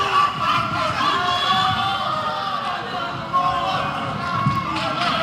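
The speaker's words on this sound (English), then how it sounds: "Man, the fans are digging this." A large crowd at a Lucha Underground wrestling event roars and cheers continuously, loud and dense throughout, with shouts and whistles rising above the mass and people talking through it.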